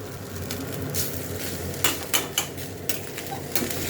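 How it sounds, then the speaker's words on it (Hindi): Cooked jeera rice with black pepper and fresh coriander being stirred in a pot, giving soft scraping and clinking spoon strokes in an irregular rhythm over a faint kitchen background. "और अब बस आपको ये केवल मिक्स करना है।"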